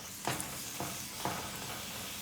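Food sizzles steadily on a newly repaired cooking range, a continuous frying hiss with a few soft clinks or stirs standing out, close and fairly quiet with no talking.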